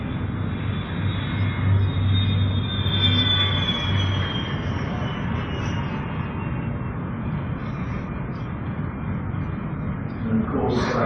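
White Knight 2, the Virgin Galactic carrier aircraft, makes a steady, loud, continuous roar of jet engines in flight, a broad rumble holding level throughout, with faint voices under it.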